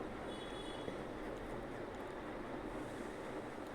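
Beetroot palya fries in a pan with sambar powder, giving off a soft, steady, hiss-like sizzle that runs evenly throughout, faint and close, with no voices.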